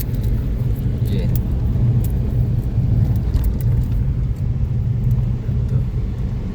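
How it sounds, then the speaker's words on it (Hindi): Steady low engine rumble and road noise from inside a moving car with the air conditioning running, loud and continuous, with faint rattles. "गाड़ी भाई अमजद चला रहे हैं और मैं उसके साथ बैठा हूँ"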